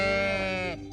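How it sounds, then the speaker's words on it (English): A sheep lets out a single loud, close bleat, a wavering nasal cry that holds for most of a second before breaking off abruptly. "It's a sheep."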